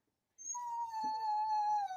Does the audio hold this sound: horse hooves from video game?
no